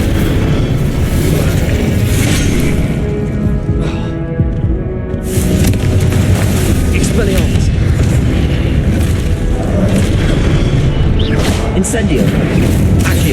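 Spell blasts and booms erupt repeatedly during combat in the Hogwarts Legacy video game, loud and continuous, with a brief lull midway and a voice talking over them.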